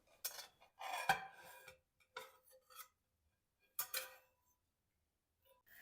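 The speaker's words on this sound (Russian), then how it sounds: "Нарезаем на порционные кусочки." A knife scrapes and taps against a plate or board in a few short, quiet bursts with pauses between them, close up in an otherwise silent room, cutting a grated potato and sausage dish into portions.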